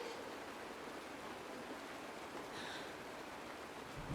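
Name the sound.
rain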